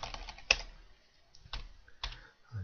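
Keystrokes on a computer keyboard while working in Office 365 software, a few separate taps and short bursts of typing, fairly close and moderately quiet, with no voice present.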